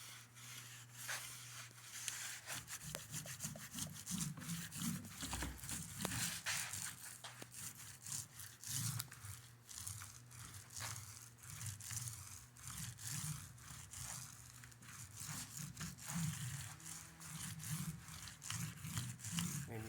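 Roller spreading wood glue onto MDF for arched door jambs, a soft, repetitive rubbing and sticky rolling sound in uneven back-and-forth strokes, close and fairly quiet, with no talk.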